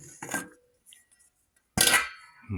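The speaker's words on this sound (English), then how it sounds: "I'll just give this a really good mix" A spoon clatters against a bowl while cake batter with vanilla and foraged blackberries and dewberries is mixed, giving two short bursts of clinking and scraping separated by a quiet pause.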